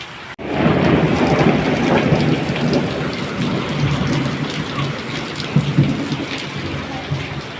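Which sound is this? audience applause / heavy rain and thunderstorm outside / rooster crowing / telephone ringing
heavy rain and thunderstorm outside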